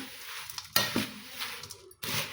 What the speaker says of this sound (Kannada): ಈ ಥರ ಚೆಂದಾಗಿ ಮಿಕ್ಸ್ ಮಾಡ್ಕೋಬೇಕು ನೋಡಿರಿ